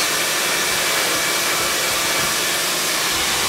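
A hair dryer blows steadily while styling hair for root lift and volume, a loud, continuous broadband whoosh held close and unbroken throughout.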